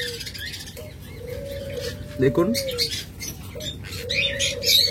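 Pet cockatiels and lovebirds kept for sale call with scattered high chirps over a low steady hum, while someone speaks briefly nearby.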